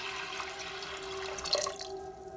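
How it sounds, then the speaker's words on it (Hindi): Water pours and trickles into a pressure cooker holding soaked lentils, a quiet, close splashing stream with a small drip near the end. "तो अभी हम इसमें पानी डाल देंगे।"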